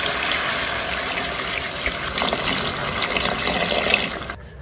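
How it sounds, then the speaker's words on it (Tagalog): Water poured into a pot of beef stock that already holds red wine, a steady splashing gush lasting several seconds before stopping abruptly, no talk. "ngayon lagyan na natin yung ating tubig."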